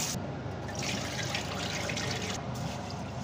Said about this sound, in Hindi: तो राइस और एक बार धो लूंगा,